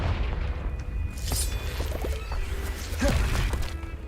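A Confringo explosive spell blast in Hogwarts Legacy, dense rumbling booms and crackling impacts layered over a constant low game ambience, loud and full-bodied.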